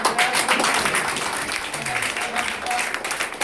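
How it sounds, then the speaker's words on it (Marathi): Loud applause from a crowd at a school Word Champion competition, honouring the children; steady dense clapping throughout with some background voices under it. "सर्व मुलांचं आपण एकदा जोरदार टाळ्या वाजवून"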